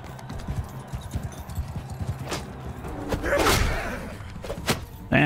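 Hooves pound in a fast galloping rhythm, loud and close, interrupted by a few sharp thuds and whooshing bursts, from a horse in the battle game Mount & Blade 2: Bannerlord.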